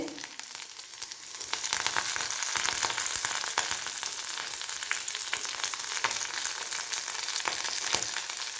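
Onions and curry leaves fry in hot oil for a fish curry, a steady close sizzle that swells after the first second and continues with scattered crackles and pops, with no talking.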